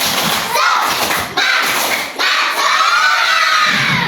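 A classroom of children performs a rhythmic group clap chant, with sharp bursts of clapping mixed with their shouted voices over a few seconds.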